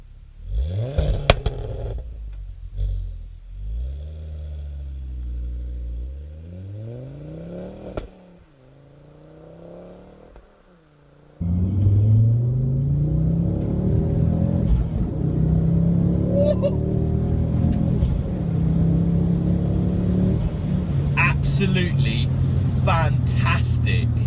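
Modified Ford Focus ST with its traction control off, engine rumbling low, then surging louder as it accelerates hard, the exhaust note rising and holding steady, with brief voices near the end.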